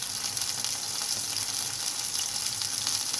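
Ginger garlic paste hits hot oil with frying onions and sizzles in a loud, steady, close crackle that runs without a break.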